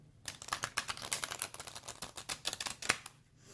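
Rapid clicking and flicking of tarot cards being shuffled up close, a dense burst of crisp taps that trails off at the end.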